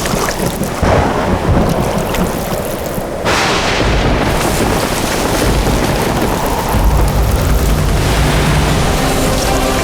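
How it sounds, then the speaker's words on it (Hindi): A sudden storm strikes with strong wind and rain, roaring loudly and continuously, with a deep rumbling surge like thunder partway through. "दादी अचानक इतनी हवाएं कैसे चलने लगी?"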